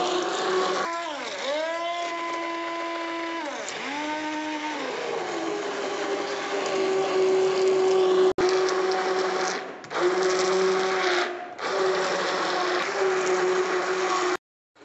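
An electric blender whips cream with powdered sugar and vanilla essence for a no-oven white forest cake, a close motor whine that dips and rises in pitch as the load changes, with brief stops and restarts.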